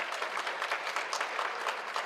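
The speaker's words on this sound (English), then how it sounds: "The applause should continue at least from the volunteers." Steady applause from a conference audience at a valedictory session, dense and continuous clapping at moderate distance with no voices standing out.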